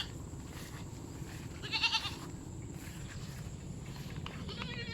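Goats with their kids on a farm, kept in a field near sweet potato plantings where they graze on grass. Soft bleats come at a distance over a steady outdoor background, with one slightly louder call in the middle.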